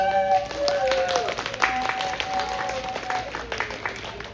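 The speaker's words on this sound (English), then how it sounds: "These are great at clapping." A small audience at an author talk claps in scattered, uneven bursts that thin out toward the end, mixed with excited voices and chatter.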